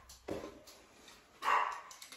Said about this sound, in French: Ça c'est le petit chien de mon fils qui est à la maison.